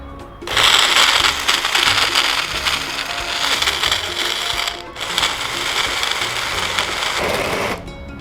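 A kitchen mixer grinds peanuts and chopped dates with a little water into a paste, a loud, close, continuous whirring grind in two bursts with a brief pause between them.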